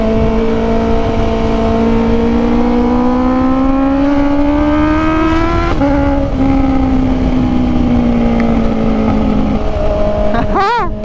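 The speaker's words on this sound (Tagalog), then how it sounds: "Talagang sumisigaw yung makina, no?" A Honda CB650R motorcycle with velocity stacks, ridden in rain, its engine droning loud and close with a rising pitch through the gears, a brief shift, then a sharp rev near the end.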